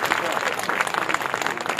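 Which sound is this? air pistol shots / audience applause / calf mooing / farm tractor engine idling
audience applause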